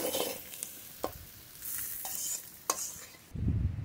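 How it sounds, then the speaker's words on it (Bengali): Spice paste being stirred and fried in a pan, with a steady sizzle broken by a few sharp scraping strokes of the spatula, ending in a low rumbling bubble. "মশলাটা নেড়ে নেড়ে একটু ভেজে নেব"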